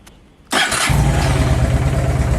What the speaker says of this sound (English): A nice cold start up of the Honda Shadow.